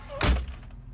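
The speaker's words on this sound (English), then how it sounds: "watch the difference when I shut this door" The door of a 2005 Prevost H3-45 Featherlite Vantare motorcoach is shut with a single close, heavy thunk, followed by a faint low hum.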